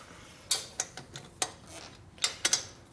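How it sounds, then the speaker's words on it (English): A torque wrench tightening bolts on a 1936 Harley 45ci flathead engine during a bobber rebuild, giving a handful of faint, sharp clicks at uneven intervals, close up with quiet in between. "He's actually using a torque wrench."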